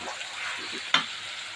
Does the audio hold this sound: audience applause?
no